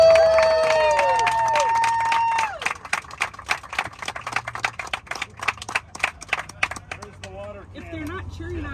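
Passengers aboard a Horizon Q400 airliner on its final flight, Spokane to Seattle, break into loud, sustained cheering and rapid applause, a dense crowd of clapping right after a voice over the cabin address system finishes speaking.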